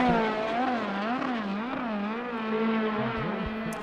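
A USAC sprint race car powered by an Ed Pink Racing Engines motor on a King chassis laps Arizona Speedway, its engine droning loud and close, pitch wavering through throttle lifts before dropping sharply near the end, with no talk.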